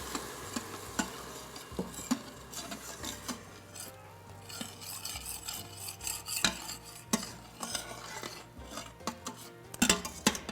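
A spoon scrapes and stirs across the bottom of an Instant Pot, loosening browned bits of beef and onion into added broth, with repeated close metallic scraping strokes and clinks in an irregular rhythm, no talking.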